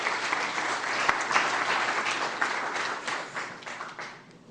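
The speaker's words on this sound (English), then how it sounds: "So would you please give a warm round of applause to Les Trachtman." Audience applause for a speaker at a lunchtime talk: steady, dense clapping from a roomful of people, loud and continuous for several seconds before tapering off toward the end.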